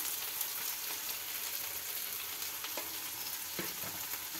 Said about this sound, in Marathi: कांदा आणि टोमॅटो आपला इथे भाजलेला आहे, त्यामध्ये आपण थोडीशी हळद घालायची.